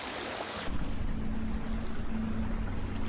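Sailboat moving at about 5 knots in 10 knots of wind in the Pacific Northwest, with a steady rush of wind and water and gusting buffeting on the microphone, continuous and close, no talk.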